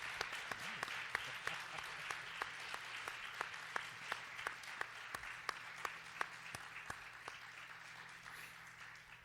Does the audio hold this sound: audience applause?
yes